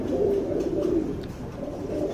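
Nearby medium-sized pigeons, including a guldar-coloured bird, give low, burbling coos in a steady run, two or three calls blending together with no talking.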